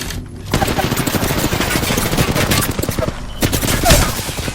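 Rapid automatic gunfire from the Apex Legends battle royale game, dense bursts of shots firing almost continuously with a short gap near the start, loud and close.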